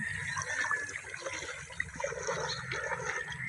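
Steady running water splashing and trickling close by, continuous throughout with no voices.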